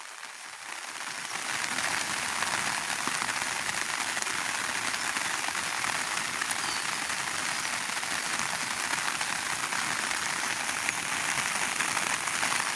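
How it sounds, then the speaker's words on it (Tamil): Steady, heavy rain in a village hisses and patters on surfaces, building within the first seconds and then holding constant with no voices. "அதை விட இப்போ மழை பெய்து கொண்டிருக்கு பாருங்க"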